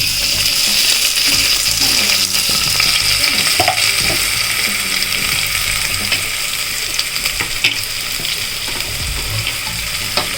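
Onion, dried chilli and curry leaves fry in a pan for a brinjal chutney, giving a loud, steady sizzle and crackle with faint clinks of a utensil and no talking.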